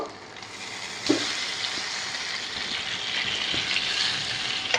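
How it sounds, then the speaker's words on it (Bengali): Tilapia fish sizzles and crackles steadily in hot oil, close by, with a brief louder spatter early on and no talking. "মাছগুলো আস্তে আস্তে ভাজা হোক"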